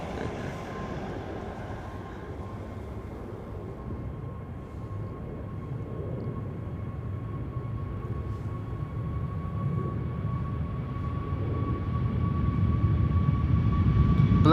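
A Norwegian airliner bound for Stockholm departs Amsterdam Schiphol Airport, its deep jet-engine roar building steadily and growing louder close by, with no voices.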